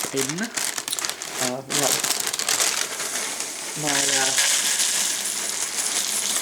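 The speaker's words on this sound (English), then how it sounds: "If I can get the bag open." A crinkly Lucky Charms S'mores cereal bag is pulled and torn open, giving loud close crackling and crumpling bursts, with a person talking between rustles.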